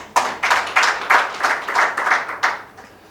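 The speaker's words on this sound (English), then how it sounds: "Media people should be clapping for that." An audience at a presidential bid launch claps in a short run of distinct bursts, each bunch of hands sharp and close, rising and fading several times over a few seconds, with no one talking.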